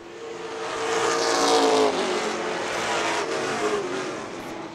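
Pro stock race cars at speed on an oval track, loud continuous engine roar from several cars swelling and passing close by, with brief tire scrubbing through a turn.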